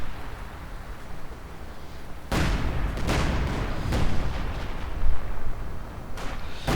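Heavy 85mm tank gun fire in a Company of Heroes 2 battle: several loud booming blasts with rumbling tails, around four distinct shots spaced a second or so apart, over a constant din of distant combat.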